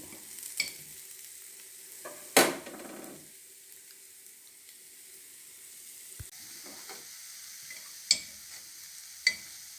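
Sweet kuzhi paniyaram fry in a pitted pan with a soft continuous sizzle, punctuated by a few sharp clicks and taps as the pieces are turned.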